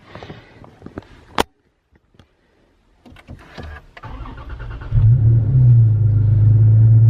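After a few clicks and knocks, a Toyota Tacoma pickup truck engine cranks and fires up, settling into a loud, steady idle rumble.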